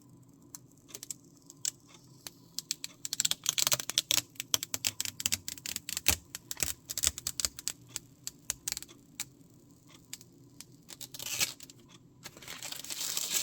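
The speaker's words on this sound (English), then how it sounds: "Let me pull this protective film." Protective plastic film is peeled off the screen of an ANALOI 13.7-inch LED wall clock, producing close, crackly bursts of crinkling and tearing in irregular rapid clusters that swell toward the end.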